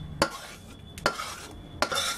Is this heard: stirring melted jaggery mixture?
yes